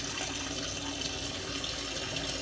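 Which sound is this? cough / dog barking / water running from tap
water running from tap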